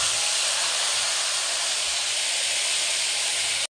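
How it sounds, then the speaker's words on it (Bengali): Nigella seeds and a halved dried red chilli hit hot oil, giving a loud, steady, broad hiss of sizzling that holds evenly and stops abruptly. "আমি এখানে নিয়ে নিয়েছি কালো জিরে আর একটা গোটা শুকনো লঙ্কাকে অর্ধেক করে নিয়েছি, আমি এবার তেলের মধ্যে দিয়ে দেব"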